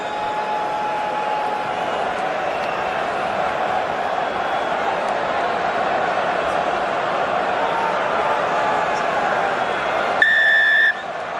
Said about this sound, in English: Romain Poit blows the whistle and away we go.